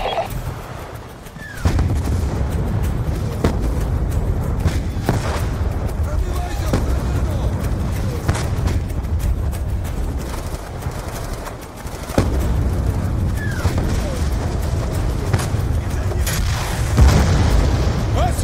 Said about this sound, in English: Enemy tanks are firing on the base.